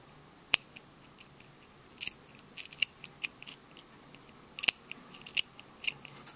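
Scissors snip loose yarn ends on a crocheted beanie in a series of quiet, crisp clicks and cuts, irregularly spaced and close in a quiet room.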